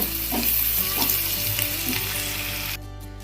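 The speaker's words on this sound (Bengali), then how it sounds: "পেঁয়াজ কুচিটা দিয়ে আমি হলুদ লবণ দিয়েছি, একটু লাল লাল করে ভাজা হলেই" Chopped onion fries loudly in a pan with turmeric and salt, a dense continuous sizzle with a few stirring sounds, cutting off abruptly near the end.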